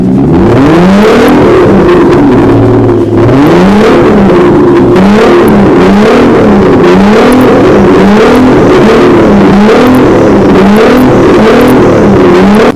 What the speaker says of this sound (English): I want to hear how loud this car is.